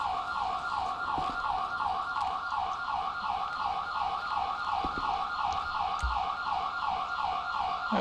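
A wailing ambulance siren from GTA V with LSPDFR, cycling rapidly up and down in a steady repeating pattern, loud and continuous with a few soft thumps beneath.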